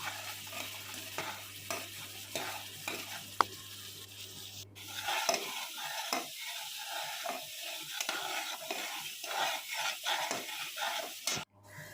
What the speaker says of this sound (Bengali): তো মশলাটা হালকা হালকা ভাজছে এই সময়